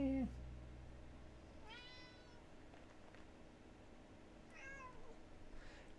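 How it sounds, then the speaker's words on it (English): A house cat named Gizmo gives a few short, clear meows, spaced apart, over a quiet indoor background. "I don't know if you're hearing that meow, but that's a Gizmo meow."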